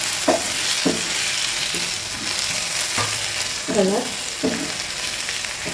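Tomatoes sauté in a pan for egg curry, a constant close sizzle of frying with intermittent scrapes and clinks of a spoon stirring against the pan; a brief word is spoken.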